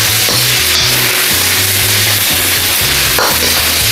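Pork hits a hot pan with onion for a stir-fry with bitter gourd, giving loud, continuous close sizzling and frying with a few scraping stirs.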